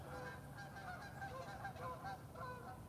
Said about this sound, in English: you have to imagine there were like 4 or 5 Canada geese flying over